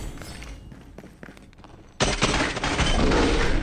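Gunfire in the video game Lost Light: a dense, loud burst of shots and impacts that starts abruptly and holds steady, after a stretch of quieter in-game noise with scattered thuds.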